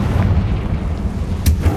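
A fiery Confringo spell blast in the game Hogwarts Legacy, heard as a brief, heavy, booming explosion with a rumbling low end and a sharp burst near the end.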